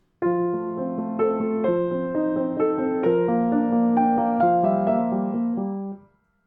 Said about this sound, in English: But if I play it with full pedal, it'll sound like this.